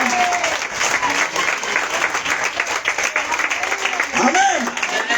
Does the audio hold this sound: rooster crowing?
no